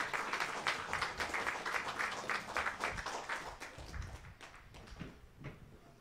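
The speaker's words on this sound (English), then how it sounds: "Give God a great hand clap of praise today." A church congregation claps hands in praise during a worship service, rapid rhythmic clapping from many people that is loud at first and then gradually thins and fades.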